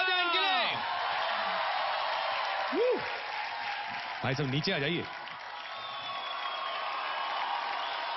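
A studio audience on the TV talent show India's Got Talent applauds and whoops steadily for several seconds, a broad wash of clapping and cheers beneath voices calling out and speaking over it.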